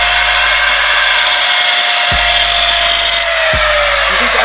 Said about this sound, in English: This man, he about to grind.